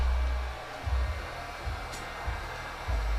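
A rebuilt Nissan KA24DE engine runs at a steady idle, a continuous low hum with throbbing low pulses recurring about every second, with no voices.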